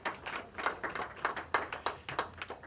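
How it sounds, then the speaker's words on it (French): Sparse, quiet clapping at a celebration of African writers, a handful of hands striking in an uneven rhythm rather than a full crowd. "Kadima vit à Kinshasa, sous vos applaudissements"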